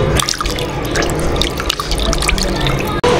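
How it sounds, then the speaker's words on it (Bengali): Boiled potatoes are tipped into a vessel of cold water, giving a steady run of splashing, dripping and sloshing throughout, close and fairly loud, with a brief dip near the end. "এখন ঠান্ডা পানির মধ্যে দিয়ে দিলাম।"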